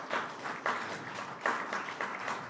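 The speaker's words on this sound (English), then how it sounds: "I don't know if that was worth a clap, but thanks." An audience at a panel discussion claps in a brief, moderate burst of applause, a mid-distance scattered patter that comes in uneven waves rather than a full ovation.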